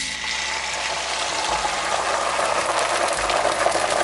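A chili omelette fries in a pan on a stovetop burner, giving a steady, fairly loud sizzling hiss with faint low thumps underneath and no talking.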